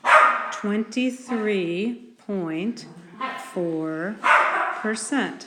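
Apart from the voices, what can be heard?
dog barking in the background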